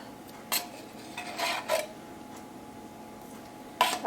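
A spoon clinks and scrapes against a dish while canned cheddar cheese soup is added to a cheesy hamburger potato casserole, with a few sharp, close knocks spaced over a few seconds and no voices.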